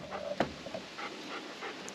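A dog pants in hot weather outdoors on a homestead, quick close breaths in short bursts, fairly quiet and alone without talk.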